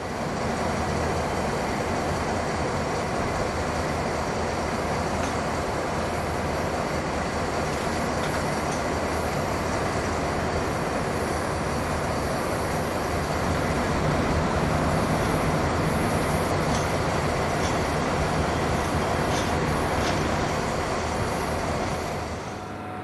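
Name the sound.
BB26000 diesel locomotives at a railway depot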